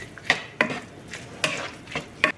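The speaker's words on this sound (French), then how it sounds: "Donc on va mélanger" Vegetables for a Moroccan tagine and zaalouk eggplant salad are stirred in a cooking pot, with four or five sharp metallic spoon knocks against the pot in an irregular rhythm between soft scraping, close and without talk.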